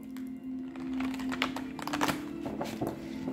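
Tarot cards shuffled by hand during a Pisces reading, a steady run of soft papery riffling and tapping clicks, close and fairly quiet, with a faint steady hum underneath and no talking.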